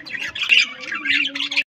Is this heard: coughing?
no